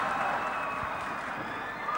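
Fans cheer and applaud at a Thai Fight muay thai bout, a broad steady roar of crowd noise with no distinct voices standing out.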